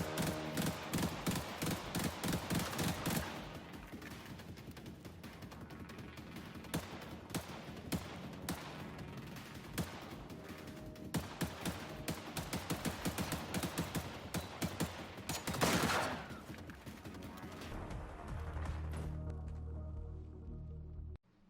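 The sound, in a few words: assault rifle gunfire in Generation Zero video game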